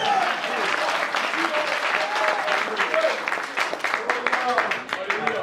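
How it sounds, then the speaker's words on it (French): A church congregation at a prayer festival claps their hands steadily and continuously, a dense, loud wall of applause with voices singing and calling out over it. "Clap your hands for the Lord Jesus."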